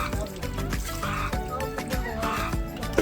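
Clean water poured over a freshly bathed dog, with splashing and trickling against the pet's coat; the pouring and drips sound close and mixed, and a background hum carries on underneath.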